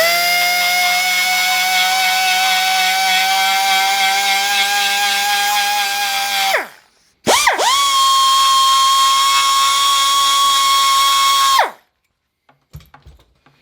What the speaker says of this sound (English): Now with the die grinder,